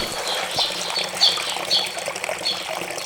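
An outdoor stream flows with a soft, continuous rushing of water, joined by a few faint bird chirps, all at a low, even level.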